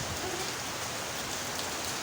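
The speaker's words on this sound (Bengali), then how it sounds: "অনেক বৃষ্টি" Heavy rain pours down in a steady, dense hiss of drops on surfaces, close and constant throughout, with no talking.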